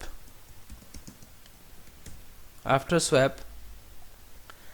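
Brief burst of keystrokes on a computer keyboard, a quick cluster of clicks lasting under a second amid a quiet room background.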